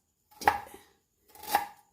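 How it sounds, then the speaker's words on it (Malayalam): A kitchen knife slices through fresh native ginger on a cutting board, making two separate crisp chopping strokes, close and moderately loud. "അതും നാടൻ ഇഞ്ചി ഇതാ ഇങ്ങനെ നൈസായിട്ട് ഇതിനെ അരിഞ്ഞെടുക്കുക"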